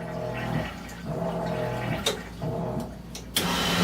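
A boat's marine toilet flushing water through the line, with gurgling surges and low pump-like rumbles broken by brief sharp clunks.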